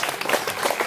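Applause from an audience at a freestyle wrestling regional competition ceremony in Qax, a steady dense patter of clapping with no gaps across the short burst.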